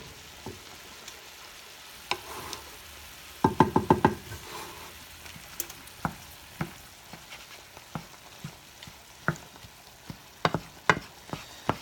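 Ground beef frying in a pan as it is stirred and broken up with a spatula, giving a soft sizzle under a series of sharp scraping and clicking strokes, including a quick rattling burst early on.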